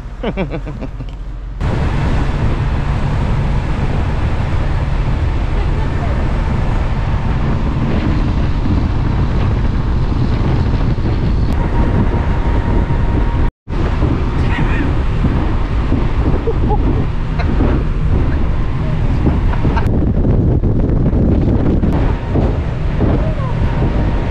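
A speedboat roars across the sea off Phuket, Thailand, engine drone blending with rushing water and heavy wind buffeting, steady and loud throughout.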